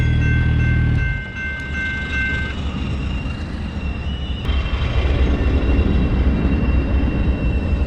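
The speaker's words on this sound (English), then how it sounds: "Oh snap, here comes a train." A train rushes past with a loud, continuous roar and rumble of wheels on rails, a high tonal whine fading early on.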